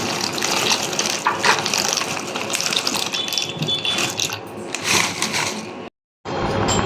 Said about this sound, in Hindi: ये देखिए हमारा पानी पूरा बॉयल हो रहा है बढ़िया से, और ये पास्ता मैं डाल रहा हूँ आधा पैकेट।